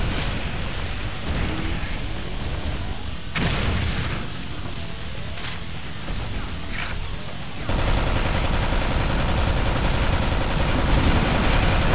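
Automatic gunfire from a machine gun in the video game Alien Shooter 2, a dense continuous barrage with heavy booms and explosions, growing louder and busier toward the end, with no talk.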